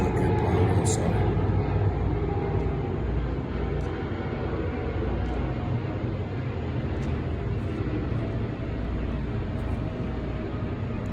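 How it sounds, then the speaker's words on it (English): An airplane passing over a house near an airport makes a steady, broad rumbling roar that holds at an even level for about eleven seconds, with no talking over it. "So I think the airplane is passing by now."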